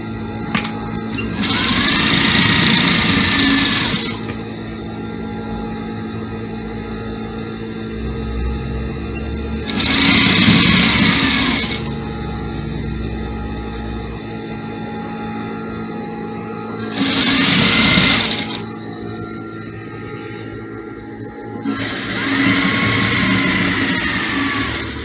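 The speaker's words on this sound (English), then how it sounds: "so I just want to stitch it with a machine" Sewing machine stitching fabric for a peplum dress, in four loud whirring bursts of a few seconds each, separated by quieter stretches with a steady background hum.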